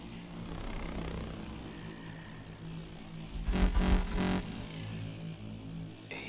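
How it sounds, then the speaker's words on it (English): A hovering drone in the Call of Duty Advanced Warfare video game whirs with a steady low engine hum, swelling louder for a moment midway amid game sounds before settling back. "Drone, don't move."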